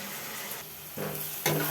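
Onions cooking in a pan for a mushroom curry, stirred now and then: a steady frying sizzle with scraping stir strokes near the one-second mark and again just before the end, close and fairly quiet, with no talking.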